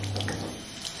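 Water gushes steadily from a hose or tap while a waterbed is drained, a continuous close splashing rush that holds for about a second with no voices.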